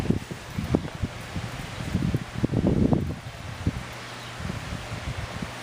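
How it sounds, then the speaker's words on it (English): Strong wind blowing outdoors around a 1969 Pro-Street Z28 Rally Sport, with a low rumble buffeting the microphone and gusting rustle rising and falling throughout. "Oh, the wind's blowing like crazy."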